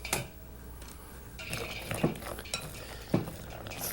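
A whisk folds walnuts into a thick batter in a bowl, giving soft squelchy stirring with several sharp metallic clinks against the bowl rim at irregular intervals, close by.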